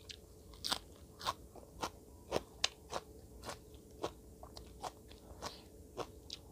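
Someone eats soi ju, a Thai raw beef dish, chewing close up with a steady rhythm of crisp crunchy bites recurring about every half second.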